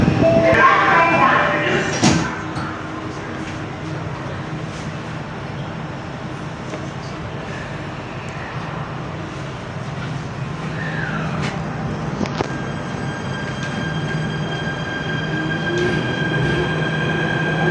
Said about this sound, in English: let's wait until the door closes and the train starts moving again.